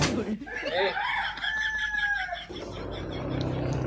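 A rooster crows once in a long, drawn-out call, close and clear, with a voice speaking briefly before it and a soft murmur of background noise after.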